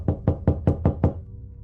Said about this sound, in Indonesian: Lalu, tiba-tiba Dian mendengar ada suara orang yang mengetuk pintu kamarnya.